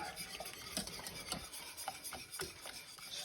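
A wooden spoon stirs Meyer lemon curd in a pot, soft repeated scraping strokes in an irregular rhythm, close and fairly quiet.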